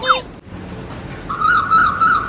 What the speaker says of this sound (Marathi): हे कोकिळा काय ना किती सुंदर गाते.